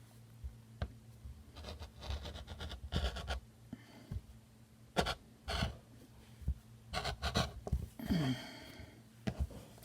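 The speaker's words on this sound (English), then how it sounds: "On the edge, I just scrape a little bit to get the excess off that I just cut." Rotary cutter blade scraping along a cut fabric edge, dull and in need of replacing, giving short irregular scratchy strokes and rubs at close range with brief pauses between them.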